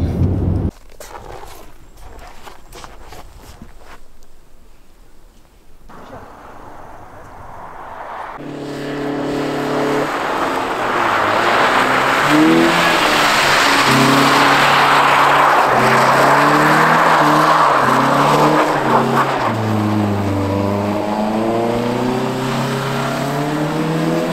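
Special race cars driving and drifting on a snowy race circuit, engines revving loud and close with rising and falling pitch, accelerating and sliding continuously after a quieter opening with brief engine bursts.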